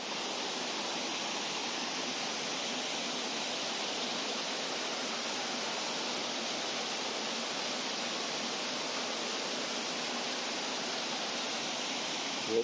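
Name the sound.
rushing water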